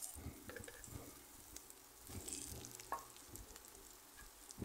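Green chillies, garlic, cumin and coriander sauté in a pan over a wood-fired village stove for chilli thecha, giving a faint, steady sizzle with soft stirring scrapes and small ticks close by.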